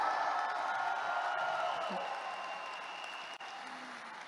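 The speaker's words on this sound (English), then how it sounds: "Can we all give ourselves a round of applause today" A crowd applauds at a motivational seminar, a broad, steady wash of clapping that fades slightly toward the end, with no talk over it.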